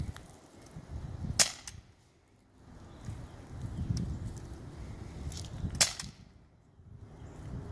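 Two sharp outdoor gunshots in the woods, a few seconds apart, each a loud crack with a short tail, over low rustling and faint movement between the shots.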